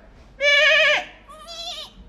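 A man imitates a goat's bleat to call goats he herded in Hingoli, giving two nasal, wavering bleats, a longer loud one followed by a shorter, softer one.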